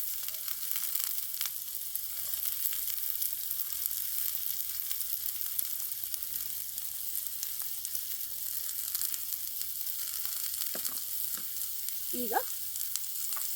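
Green chillies, onion and curry leaves fry in a pan for a village-style chicken liver fry, producing a constant bright hiss of sizzling oil, with a brief word spoken once near the start.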